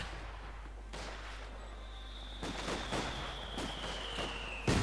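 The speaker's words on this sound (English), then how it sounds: "German mortar support laying down on the British section in the west" German mortar fire in the WWII strategy game Company of Heroes 2, a few distant booming impacts spread over a few seconds beneath a low ambient battlefield hum, with a whistling shell sound crossing the middle.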